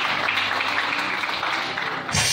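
A church congregation applauding together, a dense, steady wash of clapping hands that fills the space and holds at an even level for about two seconds before easing off.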